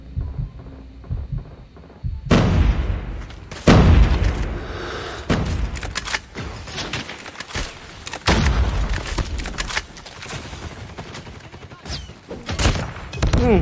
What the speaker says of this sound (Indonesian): Wow, ada bom